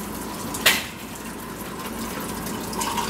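Warm water pours into a tomato paste pizza sauce, a soft, steady liquid trickle with a brief splash near the start, close and quiet.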